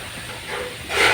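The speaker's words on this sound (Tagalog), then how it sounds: "ginigisa na natin yung bawang na may butter" Garlic sizzles in melted butter in a hot pan, a steady close hiss that swells louder at the end.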